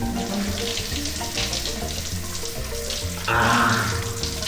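Steady rushing spray of a high-pressure shower running aboard a boat, close and continuous, swelling a little louder near the end.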